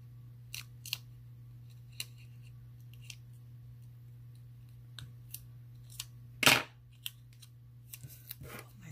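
Scattered crisp snips of scissors cutting paper over a low steady hum, with one louder rustling cut near the end.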